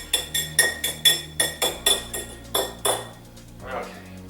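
Crab imperial mixture is stirred in a bowl with a metal utensil, giving a quick run of rhythmic clinking taps against the dish that slows, then a softer final scrape.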